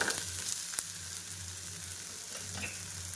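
A jowar flour dosa frying in oil on a pan, with a little extra oil poured around the sides; a continuous close sizzle with a few faint clicks and no talking.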